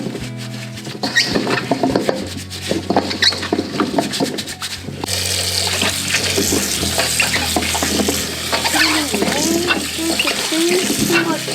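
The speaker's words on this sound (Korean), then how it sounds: "이렇게 뽀득뽀득 소리 나게 깨끗이 닦아주세요" Green plums (maesil) being scrubbed clean by hand in water, busy squeaky rubbing and wet splashing close up, continuous and fairly loud, without talking.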